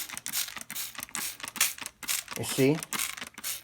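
A spray bottle misting the soil of fig cuttings, rapid repeated hissy squirts in quick succession, close and fairly loud, with a person speaking between the sprays.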